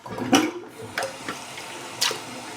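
Running water rinses shaving hair off, with a few brief splashy bursts over a steady low water wash, heard close with no talking.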